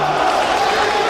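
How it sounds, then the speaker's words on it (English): A New York arena crowd at a women's wrestling match cheers and roars in a steady, dense wash of noise with no breaks. "Gotta love that New York crowd"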